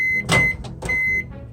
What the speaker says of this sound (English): I like to microwave mine an extra 10 seconds past what I think is completely melted